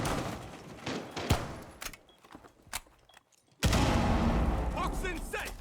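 Gunfire in a Rainbow Six Siege esports match ending in a headshot: sharp shots and bangs in quick succession, a short lull, then a sudden loud blast that holds into sustained noise, with commentators talking throughout.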